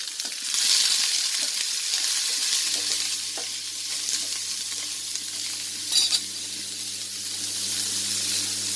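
Onions with salt sautéing in a silver steel pan over a stove flame, a continuous close sizzle with scraping stirs and occasional louder crackles.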